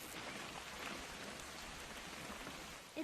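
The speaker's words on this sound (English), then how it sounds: "It's gonna rain the whole weekend, isn't it?" Steady rain in What Remains of Edith Finch, a continuous even hiss of falling drops that fills the whole clip with no voices.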